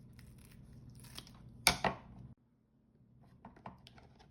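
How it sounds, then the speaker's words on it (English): A single crisp, close cut snips through a soft shell crab to remove its face, a short crunching slice with quiet kitchen surroundings before and after. "First thing you do, cut the face off."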